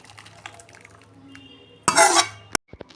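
Mango chutney is poured out of a cooking pan after the gas is turned off: quiet scrapes and clinks, then a loud wet, sloshing pour lasting under a second, followed by a sharp clank of the pan.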